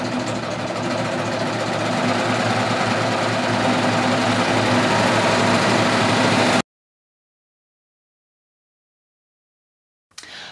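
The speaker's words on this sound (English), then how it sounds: "I'm going to start stitching." A sewing machine stitches fabric at a steady whirring, motor-like drone for several seconds, then stops abruptly into silence before starting up again briefly at the end.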